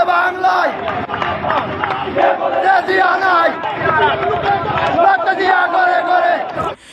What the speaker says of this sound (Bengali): জিয়ার সৈনিক বলে তারা স্লোগান দিয়েছে।